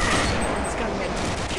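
Rapid, continuous gunfire from the shooter video game Gunman Chronicles, loud and dense throughout with no clear gaps between shots.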